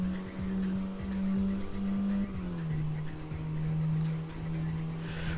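Car engine in the racing video game Tokyo Xtreme Racer holds a steady, loud drone while cruising, its pitch dipping slightly partway through, with faint tire and road noise underneath and no talking.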